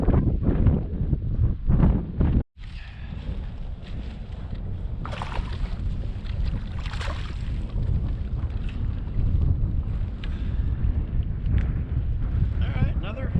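Heavy wind from a cold front roars and buffets the microphone continuously on a fishing outing, loud and close, with one brief dropout early on.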